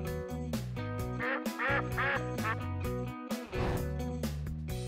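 A duck quacks amid a busy, music-like harmonic background, with several bright quack bursts in the middle and a loud, steady level throughout.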